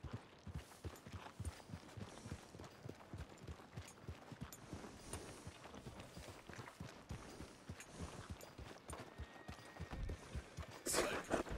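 Horse hooves clip-clop in a steady walking rhythm across the Western open world of Red Dead Redemption 2, with a faint mechanical jingle and brief spoken exchanges over the hoofbeats.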